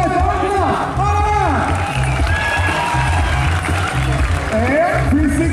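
A crowd at a Bike Days freestyle show cheers and claps in a loud, busy roar, with shouting voices, a host talking over it and a low rhythmic thump of music underneath.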